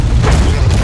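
Ship cannon firing on the left side during a game battle, a loud, heavy booming blast with rumbling low end, a second burst following closely within a second.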